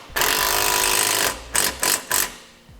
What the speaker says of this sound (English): you take a 15mm socket and we're going to tighten these two front ones up